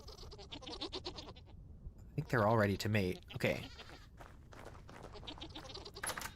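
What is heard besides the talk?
goats bleating in the video game Vintage Story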